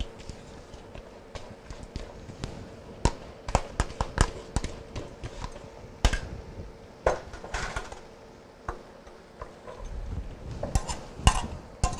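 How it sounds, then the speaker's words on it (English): A spoon works through a mixture in a 9 by 13 baking pan in a home kitchen, giving irregular sharp clinks and taps against the pan with brief scraping between them, close and fairly loud. "Give this a little stir."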